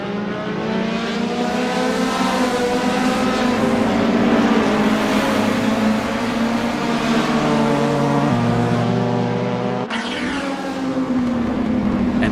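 Touring cars launching off the start in an Assetto Corsa sim race at Lost Heaven Racing Circuit, a loud sustained roar of many engines climbing in pitch with a sharp gear change near the end.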